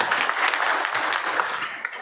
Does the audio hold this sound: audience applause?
yes